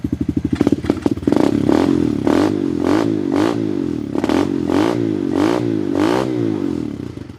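A Tao Tao Coleman 125 ATV engine with a new silencer idles and revs close by, sputtering at first, then pulsing in a steady rhythmic chug with repeated throttle blips.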